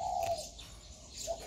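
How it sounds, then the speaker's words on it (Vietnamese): Two hand-fed baby birds give soft, short chirps and coos nearby, two brief calls with a quiet pause between, with no talking. "một đôi chim non bón đặc biệt"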